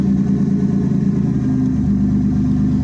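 A 1989 Chevy Camaro engine idling steadily up close, a low continuous rumble with no voices.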